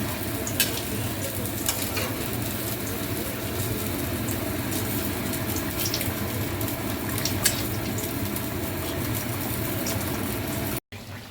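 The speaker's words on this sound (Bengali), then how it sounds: "পুরো তেল বেরিয়ে গেছে, এবার এটাকে কষা হবে।" Meat frying in oil in a pan, cooked down for a keema curry, a steady continuous sizzle with faint stirring scrapes, close and even throughout with no talk.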